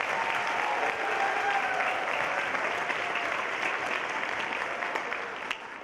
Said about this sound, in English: So one more round of applause for Mr. Hawk